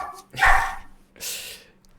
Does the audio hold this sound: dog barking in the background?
yes